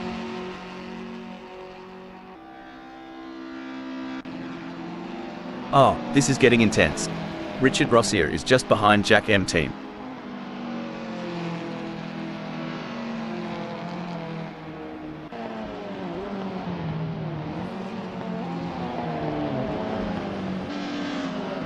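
Modified Lotus Cortina engines roar and rev through a sim race at Thruxton in Assetto Corsa, with sharp bursts of louder engine noise midway, all running under continuous excited commentary.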